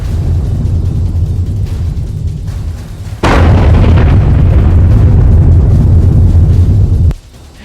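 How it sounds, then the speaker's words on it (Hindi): An explosion in a market, caught on a CCTV camera in a back alley, as a sudden loud boom cuts through a steady low rumble and roars on heavily for several seconds before cutting off abruptly. "पहला धमाका पिछली इमारतों में हुआ, लेकिन धमाके की आवाज ही इतनी विस्फोटक थी"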